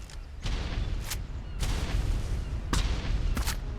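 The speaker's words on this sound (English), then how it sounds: "Oh, grenade." Several sharp explosive bursts in a video game, loud and close, going off at irregular intervals over a steady rumbling background.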